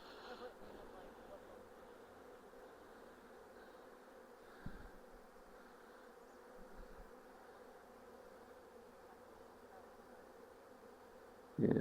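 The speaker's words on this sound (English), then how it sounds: "it's crazy how big the swarm is" A large honey bee swarm being caught and moved to a new hive gives a faint, continuous buzzing hum with a few brief knocks and a louder bump at the end.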